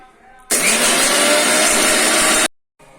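A kitchen mixer grinder whirs loudly as it grinds cardamom into powder, running steadily for about two seconds before cutting off abruptly, with a quiet room on either side.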